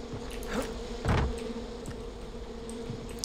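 Bees buzz as a low steady drone in the Far Cry 4 video game, with a few louder swells and thuds passing through and no talk over it.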